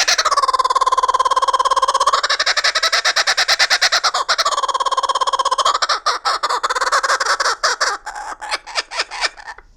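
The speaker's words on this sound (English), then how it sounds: "He is a very beautiful bird known as the laughing kookaburra" A laughing kookaburra calls loud and close, a long cackling series of rapid rising and falling hoots that builds into chattering bursts before breaking up toward the end.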